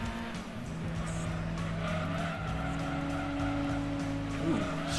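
A rotary-engined Mazda RX-7 FC races in Gran Turismo 2, with a steady, buzzing engine drone and tires squealing through corners, continuous and fairly loud throughout.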